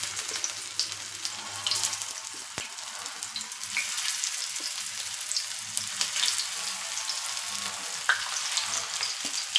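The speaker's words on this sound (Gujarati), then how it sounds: "તો એને આપણે પાછું સરસ તેલમાં એને તળાવા દેવાની છે" A second batch of aloo tikki, patties of boiled potato with cornflour or bread crumbs and green chilli, sizzles in hot oil, a steady, close frying crackle with a few small clinks and no talking.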